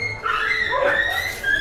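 A dog yips and whines in short, high-pitched cries that rise and fall over a second or so, heard nearby against faint background noise.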